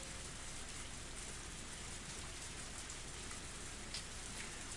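Torrential rain in the Higurashi When They Cry visual novel, a dense, constant hiss of falling rain that stays quiet and unbroken throughout.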